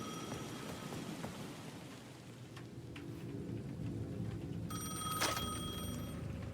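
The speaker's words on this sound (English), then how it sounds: "The payphone at the edge of the plaza was ringing again." A payphone in the video game Alan Wake 2 rings with a steady electronic tone, rising in the last seconds over a continuous bed of rain and storm ambience.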